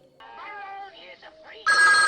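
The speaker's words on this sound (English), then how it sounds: "Phone jump scare." A sudden loud telephone bell ringing bursts out as a jump scare in the 1973 film The Exorcist, cutting in after a stretch of strained, wavering voice sounds from the film.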